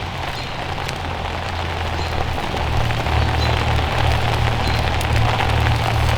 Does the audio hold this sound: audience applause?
no